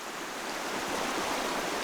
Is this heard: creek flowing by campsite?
yes